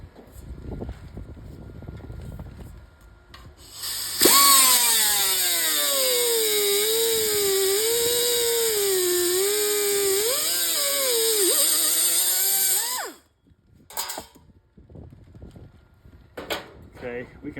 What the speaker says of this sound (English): I'm gonna go ahead and cut this strip off right here.